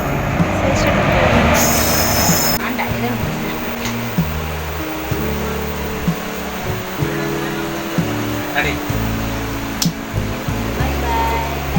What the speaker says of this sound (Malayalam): അപ്പോൾ നമ്മൾ ട്രെയിൻ എത്തി.